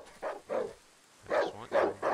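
Two dogs bark in the survival horror video game Darkwood, five loud, close barks in two bursts separated by a short silence.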